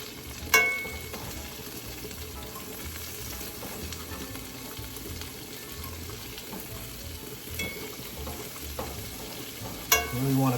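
Onion and garlic in olive oil sizzle in a pan while being stirred, a steady close frying hiss punctuated by spatula scrapes and a few louder knocks.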